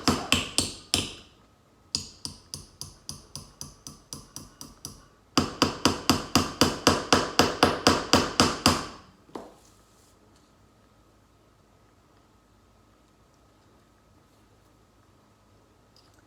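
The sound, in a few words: hammering nails into wood for string art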